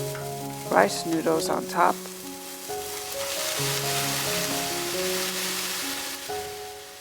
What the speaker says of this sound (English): Stir fry for 1 minute. Then toss in the bean sprouts.